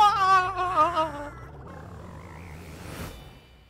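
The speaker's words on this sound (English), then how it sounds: "He said ribbit. Because he's a frog now." A frog in Super Mario Odyssey gives a loud, close, tonal ribbit croak in two quick pulses, followed by quieter game ambience with a brief whoosh near the end.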